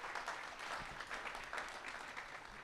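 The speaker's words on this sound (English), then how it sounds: "please give yourselves a round of applause." Audience in a summit hall applauding themselves at an investment event finale, steady faint clapping running through without pause, a little distant.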